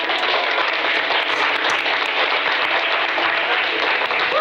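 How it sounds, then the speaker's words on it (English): Studio audience applause for a couple on a television show, a continuous even wash of clapping that holds steady without breaks. "Let's give a big round of applause to our sexiest couple."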